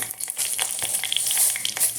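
Mustard seeds sizzle and pop in hot oil in a pan, the base for a Kerala mango pulissery: a steady close hiss with rapid crackles and small bursts throughout.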